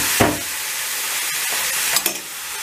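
Chopped green peppers and minced meat fry in a pan, a steady close hiss of sizzling with a few brief scrapes and clinks of a spatula stirring, no voices.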